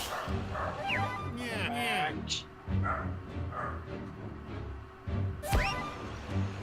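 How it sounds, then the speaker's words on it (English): A dog in the platform game Yooka-Laylee barks, yips and whimpers in several short bursts close by, with a person talking over parts of it. "I'm hearing a dog."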